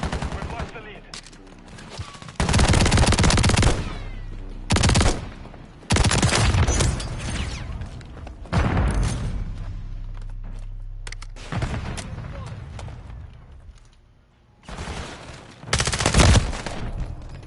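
Rapid shotgun gunfire in the video game Call of Duty MW3, loud close bursts of shots in several clusters with short gaps between them, some low booming and a faint voice underneath.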